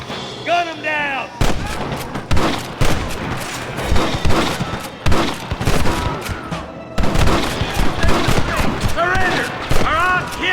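Dense gunfire from the Red Dead Redemption video game: rapid, loud shots crack one after another in a near-constant barrage, with whistling ricochet-like tones and shouting voices mixed into the shooting.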